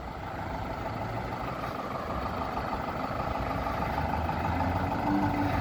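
A Zetor Proxima CL tractor engine runs steadily, a diesel rumble with a continuous drone that grows gradually louder toward the end, with no voices.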